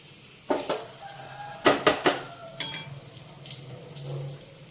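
Chopped bottle gourd pieces tumble into a pan of fried masala, making several distinct clattering thuds in a quick cluster over a soft background sizzle.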